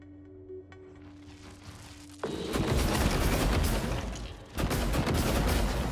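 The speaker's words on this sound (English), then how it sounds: "Just gonna grab the glue cannon." A glue cannon fires in the video game Prey, a loud sustained gushing spray starting abruptly after a quieter hum, breaking off briefly and then resuming.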